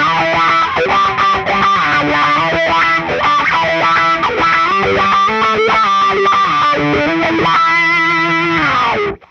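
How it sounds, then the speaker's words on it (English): Distorted electric guitar octaves move up and down through a sweeping wah pedal, the tone opening and closing in a rhythmic, vocal-like wah. "Add a Wah pedal."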